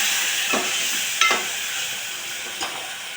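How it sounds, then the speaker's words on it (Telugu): Tomatoes and green chillies are stirred in a sizzling pan: three distinct scraping strokes of a spoon over a constant, close frying hiss. "టమాటా 2 పచ్చిమిరపకాయలు వేసుకొని కొద్దిగా కలుపుకోవాలి."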